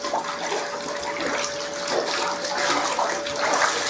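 A textile motorcycle jacket is swished and moved around in soapy water with washing powder, giving a continuous close sloshing, rushing wash of water with no talk.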